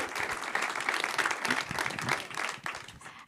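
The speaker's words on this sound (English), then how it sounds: "A round of applause for Taylor and for Aaliyah" An audience at a panel event with LSU Athletics and a former LSU track star breaks into applause, dense and fairly loud clapping sustained throughout before tapering slightly at the end.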